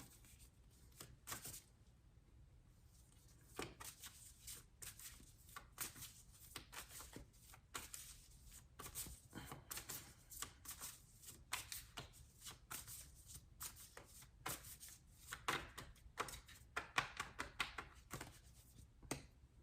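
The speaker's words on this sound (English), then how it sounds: "So let me keep shuffling." Tarot cards riffle and flick in quick repeated bursts, a soft papery shuffling that goes on and on, close up and fairly quiet.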